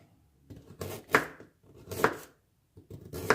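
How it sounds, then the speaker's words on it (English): A Victorinox kitchen knife chops on a board in three sharp, separate strikes roughly a second apart, each a crisp knock with a short scrape, fairly quiet and alone. "Okay, but chopping. Let's try chopping."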